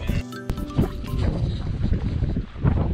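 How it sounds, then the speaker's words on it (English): Gale-force wind buffeting the microphone in low rumbling bursts while fishing on the Breede River, with water and boat-like sounds in the background. "Absolute gale force today. Super windy."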